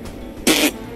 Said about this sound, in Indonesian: langsung merespon sambil batuk terlebih dahulu